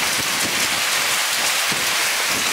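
Rain falls steadily on a tent outdoors, a dense, close, continuous patter with no voices.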